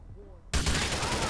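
Gunfire in the video game GTA IV: after a quiet half second a sudden loud burst of shots erupts and sustains as dense, close game gunfire to the end.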